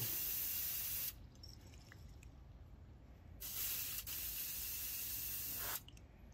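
Loud hissing spray bursts in two long stretches, each cutting off abruptly, with a quieter watery hiss between them; paint being sprayed out until it runs clear; no talking.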